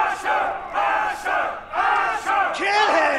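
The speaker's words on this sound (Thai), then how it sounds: "มีเสียงเชียร์ครับ" Crowd cheering and battle cries from a Telltale Game of Thrones video game scene, a dense roar of many voices rising and falling in surges, loud and continuous with shouted bursts.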